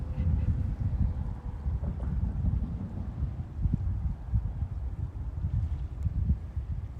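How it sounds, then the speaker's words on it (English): Steady wind blows outdoors on a boat, a continuous low rumbling buffet of gusts against the microphone, loud and close throughout with no voices. "Guys, listen to the scenery. They're gonna hear the wind."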